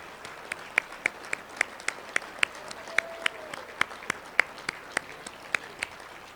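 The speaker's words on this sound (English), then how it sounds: "do you mind standing for a round of applause?" A small, sparse round of clapping at a softball Hall of Fame induction ceremony, distinct individual claps spaced evenly over a quiet room, fairly faint and steady throughout.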